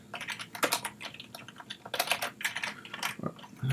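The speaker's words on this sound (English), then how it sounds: "it's been a typing day" Rapid computer keyboard typing, close and fairly quiet, with irregular bursts of clacking keystrokes and brief pauses, no voices.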